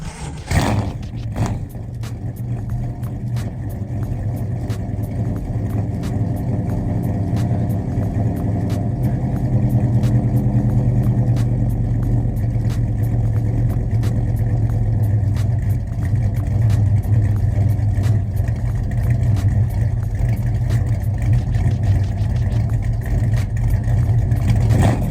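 A 1968 Dodge Dart with a 360 V8 cranks with a brief starter whir, then catches and settles into a loud, steady, rumbling idle heard up close for the rest of the stretch.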